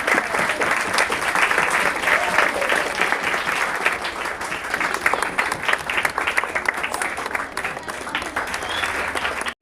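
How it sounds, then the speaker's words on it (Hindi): Sustained audience applause at a school Republic Day celebration fills the room, dense steady clapping from a large crowd with some voices mixed in, loud and continuous throughout. "ताली बजाते रहो।"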